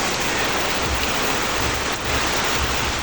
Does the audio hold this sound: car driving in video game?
no